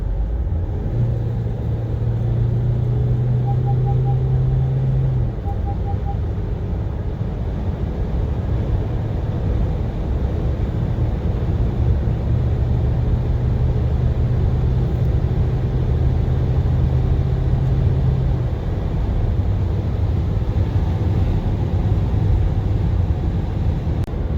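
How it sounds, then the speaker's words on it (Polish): From inside a Toyota Proace Verso van accelerating flat out from 90 km/h, a loud, steady low engine and road rumble fills the cabin, with faint whining tones drifting through and no talk. "teraz zobaczcie jak przyspiesza od 90. Pedał w podłogę."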